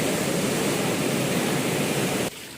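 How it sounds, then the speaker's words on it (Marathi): Fast-flowing floodwater of the Agasti river surging near a bridge in Ravande village, a loud, dense roar of rushing water held steady until it drops off sharply near the end. "पाण्याला प्रचंड वेग दिसल थोडं थोडं पुलावर येतंय पाणी"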